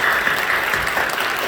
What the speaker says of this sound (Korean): 찬양 영광의 박수를 드립니다